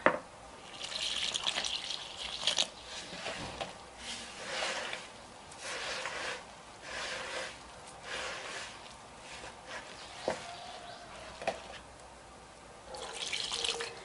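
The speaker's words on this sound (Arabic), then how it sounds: "الماء كنديروها بشويه بشويه باش نتحكموا فيه باش نتحكموا في القوام" Water poured gradually in small amounts into corn flour batter for Moroccan baghrir, giving soft splashing and trickling bursts with short pauses and a few drips, fairly quiet and without speech.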